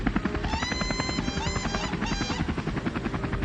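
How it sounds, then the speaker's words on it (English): A helicopter arrives with a loud, steady rhythmic rotor chop and a whining engine drone, close and continuous throughout. "Gentlemen, I believe my helicopter has arrived."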